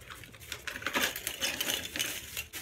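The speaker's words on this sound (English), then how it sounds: "I'm gonna take this plastic bag and dump these all in here." Christmas ornaments are dumped into a plastic bag, giving a quick cluster of light clattering and crinkling knocks, close and moderately loud, spread over a couple of seconds.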